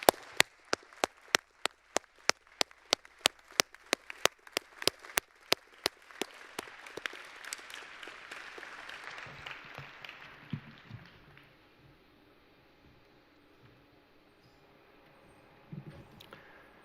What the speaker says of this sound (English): join me in applauding their outstanding accomplishments